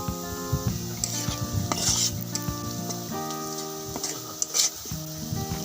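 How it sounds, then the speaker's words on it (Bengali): Chopped onions sizzle in hot oil while a metal spatula stirs and scrapes them apart, the pan noise steady and close with clinks and scrapes over background music; the onions are fried for a ridge gourd mash. "তারপর একটু খন্তা দিয়ে নেড়ে নেড়েও যে পেঁয়াজগুলো একসাথে দলা পাকিয়ে আছে সেগুলো ছেড়ে ছেড়ে দিচ্ছি"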